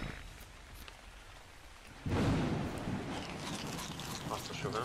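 Heavy rain and thunder in the video game ARK Survival Ragnarok, a steady wash of downpour that swells sharply louder halfway through and stays dense and close, with someone talking over it.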